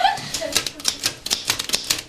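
Antique manual turn-of-the-century typewriter keys thumped hard in a steady run of sharp, close clacks, about eight distinct strikes, with faint voice traces early on.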